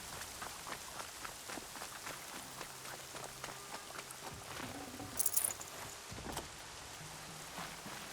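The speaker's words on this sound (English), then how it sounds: "More rain. My boots will get damp." Light rain in the video game Horizon Zero Dawn patters steadily on a surface, soft and close, with scattered drips and a brief rustle partway through.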